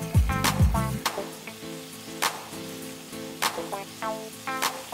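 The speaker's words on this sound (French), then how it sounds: "on va faire revenir dans de l'huile chaude séparément le bacon et les oignons" Bacon and onions frying separately in hot oil, a soft crackling sizzle with scattered sharp pops and clinks, moderately close, no talking.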